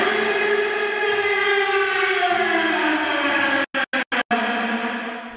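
A sustained cello tone through a Space reverb effect, drenched in spacious reverb, swells and slowly fades, broken near the end by several brief, abrupt cut-outs.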